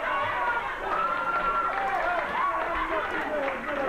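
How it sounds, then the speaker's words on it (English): A wrestling arena crowd in 1989 Memphis chanting, a loud rhythmic chorus of many voices rising and falling under a busy hall din. "Once again, the crowd says, "Go Jerry, go Dutch.""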